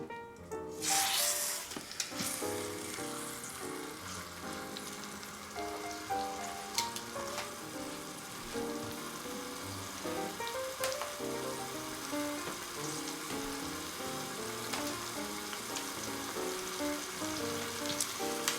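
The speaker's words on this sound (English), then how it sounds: "I'm going to go ahead and drop the chuck roast in there" Chuck roast searing in hot oil inside an Instant Pot, starting with a loud hissing splash as the meat hits the oil, then a steady, close crackling sizzle that carries on without talk.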